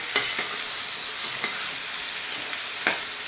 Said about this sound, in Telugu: ఇప్పుడు కడిగి పెట్టుకున్న మటన్ ఇందులో యాడ్ చేసేద్దాము ఈ మటన్ అనేది ఆయిల్లో బాగా వేగాలి